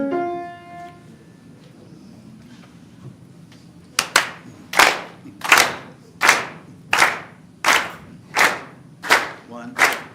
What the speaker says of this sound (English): We're going to do some clapping to get us going